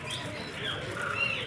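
Small birds at a park bird house give thin high chirps and tweets scattered over steady outdoor ambience, with soft cooing and wing flutter in the background.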